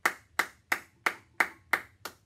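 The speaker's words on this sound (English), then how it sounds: "But also, it could be just a clap," Seven crisp hand claps in an even, steady rhythm, close and clear with quiet gaps between each one.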